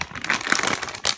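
A plastic bag of Coca-Cola bottle-shaped gummy candies crinkles and rustles close up, with several sharp crackling bursts over about a second and no voices.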